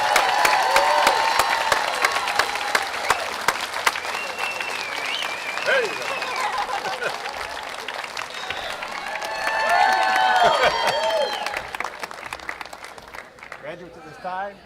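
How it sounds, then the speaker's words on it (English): Applause fills a commencement ceremony for the class of 2021, a dense crowd clapping with scattered cheers and nearby voices talking over it, swelling again before fading out at the end. "another round of applause for the class of 2021"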